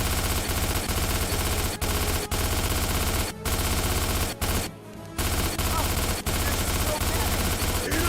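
Rapid automatic gunfire blasts against a swarm of bugs in the PC game Starship Troopers, a dense continuous fusillade that drops out briefly twice, loud and near, with voices calling out over it.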